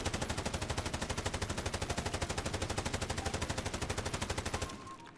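FAMAS assault rifle with 60-round magazines firing one long full-auto burst in a video game, a rapid steady stream of loud close gunshots that stops abruptly near the end.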